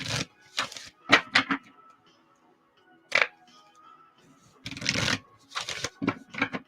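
Tarot cards being shuffled in short rustling, riffling bursts separated by quiet pauses, close and moderately loud.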